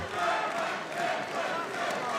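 A boxing crowd at the Stefan Voda versus Bogdan Draskovic bout roars and applauds after a round, a dense, steady wall of cheering and clapping that holds at a loud level throughout.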